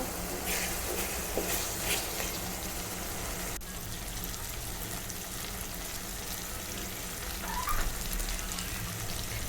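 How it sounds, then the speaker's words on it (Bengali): Spices frying in a pan for chicken bhuna, a steady soft sizzle running close and even throughout with faint clinks, no talk. "মশলাটা ভালোভাবে কষিয়ে নিব।"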